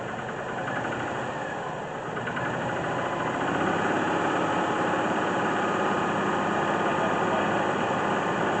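A 1999 Ford Explorer engine drones loudly and continuously nearby, its pitch and volume rising partway through and then holding steady as it revs.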